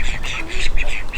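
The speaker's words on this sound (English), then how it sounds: "When you have very small birds like these call ducks, bantam chickens" Small call ducks quack in a quick run of nasal calls, close and loud, repeated several times over about a second.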